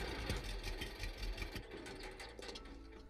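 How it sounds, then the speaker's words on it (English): Tractor engine idling while being parked in the Lumberjack's Dynasty game, a steady low mechanical chugging with faint rhythmic clatter, quiet and continuous. "just park the tractor right here"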